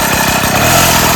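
A motorcycle engine running steadily at close range while the bike is ridden in reverse, a loud, even drone with no talking.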